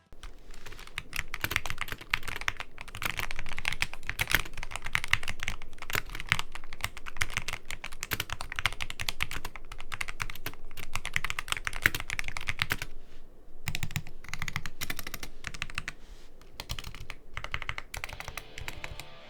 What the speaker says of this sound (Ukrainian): А тепер до самого тайпінгу.